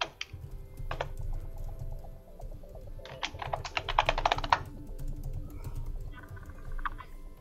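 Keys clatter on a computer keyboard in short bursts: a few isolated taps, then a fast flurry of keystrokes, then sparse light clicks, with a low hum underneath.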